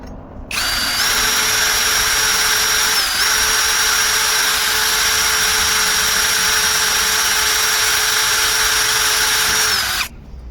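A Vitals Professional AU 1840 BSQC cordless drill runs steadily at high speed for about nine seconds with a 1.5 mm bit, loud and close, with a slight dip in pitch partway through before stopping abruptly.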